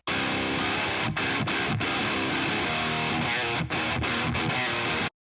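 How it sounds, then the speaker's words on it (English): Heavily distorted metal rhythm guitar, a PRS played through a Mesa Triple Rectifier amp, chugs loud and dense with a few short palm-muted stops and gaps, alone with no voice. "And then this is the PRS with the triple rectifier."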